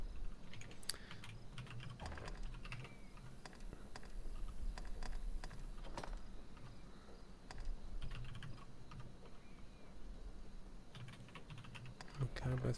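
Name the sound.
typing on a computer keyboard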